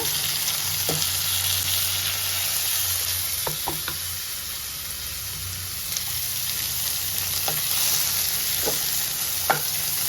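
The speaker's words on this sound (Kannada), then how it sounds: "ನೀಟಾಗಿ ಟೊಮ್ಯಾಟೊ ಸಾಫ್ಟ್ ಆಗೋವರೆಗೂ ಫ್ರೈ ಮಾಡ್ಕೊಳ್ಳೋಣ" Chopped tomatoes fry with onions and green chillies in a pan, giving a steady, close sizzle with scattered light clicks of stirring.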